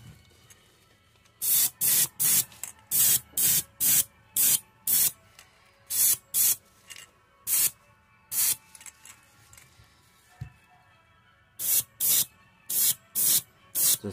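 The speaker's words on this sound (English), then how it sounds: "We're just gonna random spray" An airbrush sprays green paint onto a fishing lure in short, sharp hissing bursts, repeated in quick rhythmic runs with brief pauses between groups.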